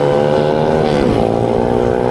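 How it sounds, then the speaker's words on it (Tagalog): A loud motorcycle passes close by on a street, its engine a steady buzzing drone that swells toward the middle and then continues without a break. "Mag-ingay talaga na ganyang motor, oh."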